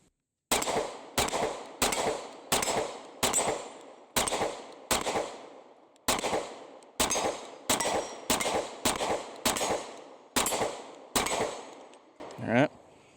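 Close-range pistol fire from two magazines with an Osight K red dot mounted. Loud sharp shots come singly and in quick groups, with one short pause between strings, and each report rings briefly. A metallic clatter comes at the end.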